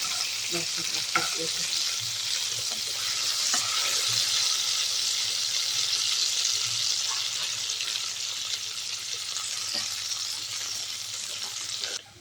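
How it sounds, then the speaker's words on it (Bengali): Oil sizzles steadily as okra fries in a pan, a constant crackling hiss with occasional stirring clinks. "আমার ঢেঁড়সটা ভাজা হয়ে গেছে"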